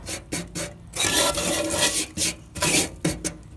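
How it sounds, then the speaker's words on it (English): A wire wheel cleans rust off the rear frame of a 1958 VW bus, heard as repeated harsh rasping, scraping bursts in quick uneven strokes, close and loud with no talking. "go ahead and wire wheel these out and treat them with that rust treatment"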